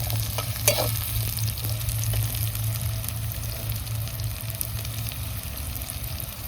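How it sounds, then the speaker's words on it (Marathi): Onion fries in leftover paneer oil, a steady, dense sizzle that holds throughout, close and loud, with a faint clink of stirring near the start and no talking. "मग असं पनीरच तेल उरलेलं ते टाकायचं या कांदा तळायला. आपला कांदा बी मस्त तळायचं चाललंय."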